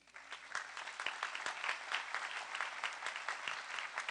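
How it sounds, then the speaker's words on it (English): An audience at a community college commencement applauds a graduate, with dense, sustained clapping that builds quickly and stays steady throughout. "Y'all should clap for Tara."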